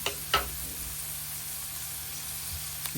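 Garlic and onion sizzle steadily in hot oil for a Filipino canton-bihon guisado, a constant close frying hiss with a couple of brief stirring clicks and no talk.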